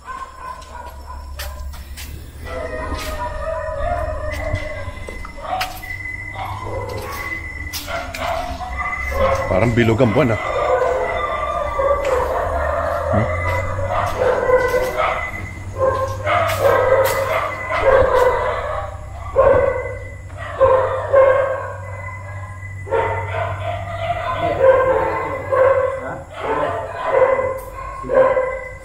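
Dogs bark repeatedly at night, sometimes several at once, close and loud, and a rooster-like call may rise among them; people talk over them now and then.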